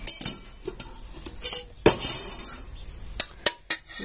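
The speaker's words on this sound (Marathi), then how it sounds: "तर आता आपण हे तूप गाळून घेऊया एका डब्यामध्ये।" Homemade ghee being strained from a pot into a container, heard as sharp metallic clinks and scrapes of a utensil against pot and vessel, irregular and close, with no talk.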